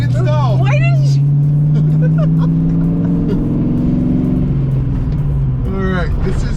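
Engine of a Ford Foxbody convertible droning and revving as it pulls away, a steady loud tone rising in pitch, with people talking excitedly at the start and end.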